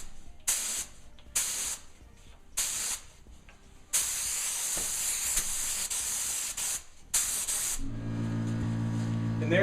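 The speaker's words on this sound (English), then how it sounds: "Same thing, spray the edges." A spray gun lays top coat along kitchen cabinet edges in an antique white finish, a series of close hissing bursts of varying length, ending with a low hum.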